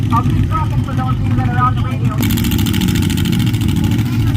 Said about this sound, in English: This car is stupid loud.